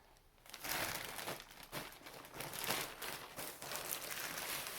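Crisp tissue paper crinkling and rustling close by as a parcel is opened, in repeated bursts as the thin paper is pulled and unfolded, with no talking.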